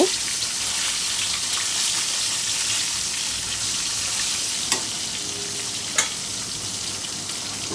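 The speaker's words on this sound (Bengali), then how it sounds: "অপর পিঠটা ভাজা হয়নি, এখনও ভাজা হয়নি। তাই আরও কিছুক্ষণ ভেজে নেব।" Fish frying in a pan of oil, a loud continuous close sizzle with a couple of sharp utensil taps, no talk.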